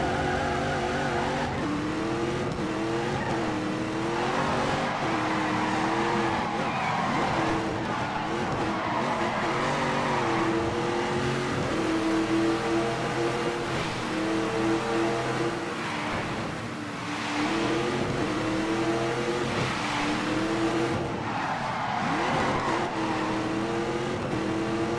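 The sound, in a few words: cars racing at full throttle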